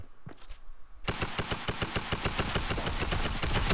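Rapid automatic gunfire in the video game Fortnite, a brief burst followed by a sustained, evenly spaced stream of loud shots close up, with no talking.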